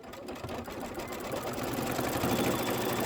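An embroidery machine stitches diagonal lines across fabric for a Halloween pillow, giving a steady, fast mechanical whir and rattle that holds constant and builds slightly, heard close and fairly quiet.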